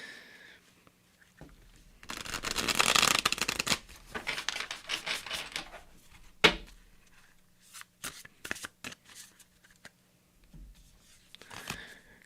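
A deck of tarot cards shuffled up close, with bursts of riffling and soft slapping that come and go in uneven spurts, then lighter taps and flicks. No one speaks.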